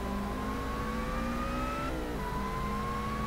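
Race cars overtaking in the racing sim Assetto Corsa, steady engine whine climbing in pitch as one car accelerates, briefly dipping and shifting as the cars swap positions, loud and continuous throughout.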